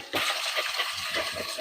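Strawberries are rinsed under running water, a steady close hiss of flowing water with faint splashing patter, starting suddenly and continuing for a moment.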